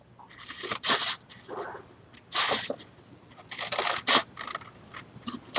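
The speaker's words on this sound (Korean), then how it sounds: "가위질은 이제 모름지기 슥슥 소리가 나야 맛이 납니다" Scissors snip through paper in a series of crisp, close swishing cuts, some quick and clustered, others spaced apart, with no talking.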